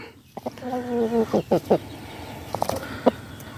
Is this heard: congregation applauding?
no